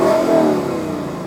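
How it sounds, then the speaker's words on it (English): Close, loud revving of a Lexus engine exhaust note built to sound in octaves, with a brief rising roar that eases off after a second. "Lexus spent years designing that exhaust note to be in perfect octaves"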